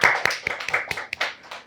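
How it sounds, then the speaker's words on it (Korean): Several people clap in a short, uneven burst of applause at a church gathering, sharp hand claps close by with no talk over them. "박수 한번 주세요"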